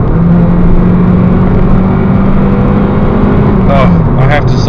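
A 2009 Honda Civic 1.8 i-VTEC automatic drones loudly as it revs under kickdown, a sustained strained engine note that holds steady for several seconds while a voice speaks over it near the end.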